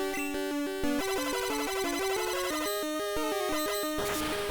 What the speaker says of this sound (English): Let's try out our new Ice Beam.